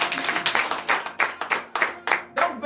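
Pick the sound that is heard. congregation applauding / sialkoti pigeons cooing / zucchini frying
congregation applauding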